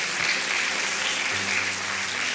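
A church congregation applauds during a Spanish-language sermon, with a dense, steady wash of many hands clapping at once and filling the room without pause.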